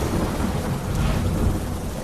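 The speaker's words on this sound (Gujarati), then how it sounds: "વેરાવળ શહેર અને ગ્રામ્ય વિસ્તારોમાં વરસાદ" Monsoon rain pouring over Veraval, Gujarat, a dense steady roar of rainfall with a low rumble of thunder underneath, loud and continuous throughout.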